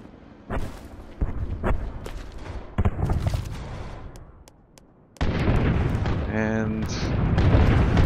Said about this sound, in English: I'm going to throw the artillery barrage.